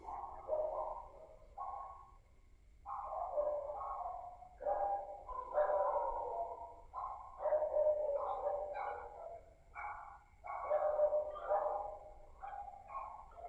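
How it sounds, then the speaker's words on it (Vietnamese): Several dogs bark in irregular, overlapping bursts throughout, fairly distant and somewhat muffled, with yelping, howl-like tones and only brief pauses between runs. "Tự nhiên chó sủa nhiều quá mọi người."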